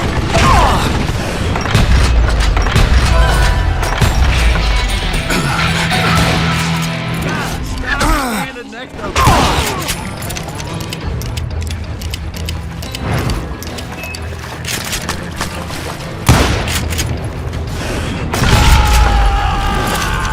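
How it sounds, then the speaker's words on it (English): Gunfire erupts in a Western shootout in Call of Juarez Gunslinger, a loud, dense fusillade of shots and booming impacts running throughout, with mechanical clatter and a voice speaking over parts of it. "a fusillade of bullets come raining down from on high"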